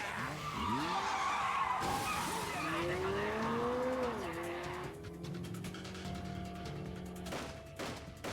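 A car in the video game Yakuza 0 skids with screeching tires that sweep up and down in pitch, then fades into a rumbling engine with sharp background pops.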